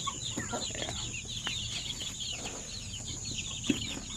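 Native chicken chicks cheep and cluck in a busy, continuous high chorus, fairly close, over a steady background hum.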